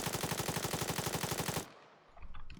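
Full-auto rifle fire in Arma 3 rattles off as a loud, rapid, evenly spaced burst of about twenty shots, then stops abruptly and leaves a short echoing tail with faint clatter.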